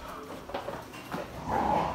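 A puppy whimpers and gives a few soft yips indoors, the whining rising toward the end, with faint human voice murmuring in the background.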